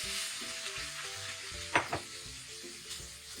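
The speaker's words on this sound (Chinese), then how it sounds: "一直用小火慢慢的烘烤， 一直炒到燕麦片颜色变得焦黄" Rolled oats toasting in melted butter over low heat give a steady, soft sizzle with light stirring scrapes, and two brief louder clatters come from the pan partway through.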